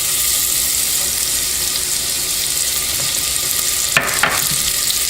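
Onions sizzling and frying in hot bacon fat in a pan on a raised flame, a steady dense crackle throughout with a couple of brief clinks near the end.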